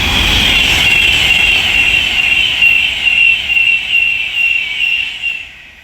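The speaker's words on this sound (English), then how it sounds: "The next train to pass by is an Avanti West Coast class 390 Pendolino from London Euston to Liverpool Lime Street" An Avanti West Coast class 390 Pendolino electric train from London Euston to Liverpool Lime Street passes at speed on the West Coast Main Line at Leighton Buzzard, a loud steady whine and rushing roar that slowly fades.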